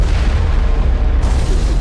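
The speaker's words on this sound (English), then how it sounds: "Oh, grenades" A grenade blast in Mass Effect 1, a loud broadband boom that fills the whole moment and rumbles heavily in the lows, ending in a sustained roar with no voices over it.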